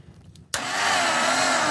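A high-torque starter on a 1961 Triumph TR3A kicks in abruptly after a near-silent moment, then cranks the cold engine in a loud, dense, steady whir with no talking.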